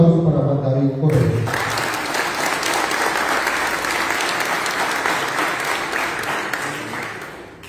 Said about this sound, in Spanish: Un aplauso para Juan David Correa